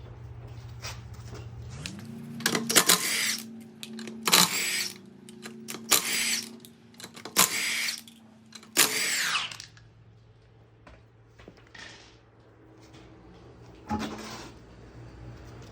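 Power drill or impact tool bursts repeatedly as wheels come off an SN95 Ford Mustang, several loud whirring runs with short pauses, then quieter clunks and handling noises afterward.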